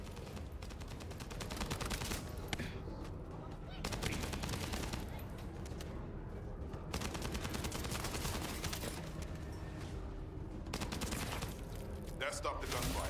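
Dense, rapid gunfire in the video game The First Descendant crackles almost nonstop in long bursts with brief lulls between them, loud and sustained throughout.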